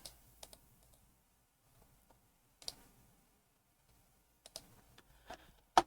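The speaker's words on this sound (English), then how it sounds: "I'm going to have to click back here a bunch of times to do that." Sparse clicking from a computer mouse or keyboard, a few isolated taps scattered over quiet room tone with a small cluster near the end, close and fairly soft.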